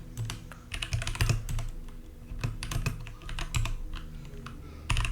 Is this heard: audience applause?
no